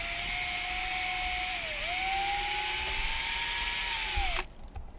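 A power hone grinds inside a motorcycle cylinder with a steady, loud whine that dips once in pitch, then drifts, and cuts out abruptly near the end, leaving a brief clatter.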